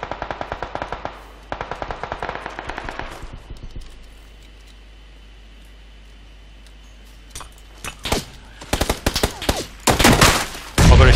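PUBG gunfire rattles in rapid automatic bursts, then drops to a quiet lull before a louder series of close shots closes out the sequence.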